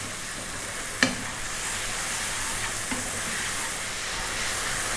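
Ginger garlic paste with turmeric, chili, cumin and coriander fries and gets stirred in a pan over high heat, a continuous steady sizzle broken by one sharp utensil clink early and a softer knock later.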